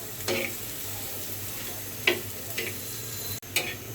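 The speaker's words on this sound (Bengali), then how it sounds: "আমার পেঁয়াজটা ভাজা হয়ে গেছে।" Onion, garlic and green chili fry in a small amount of oil for a dal puri filling, giving a faint, steady sizzle with a few scattered spoon clicks against the pan.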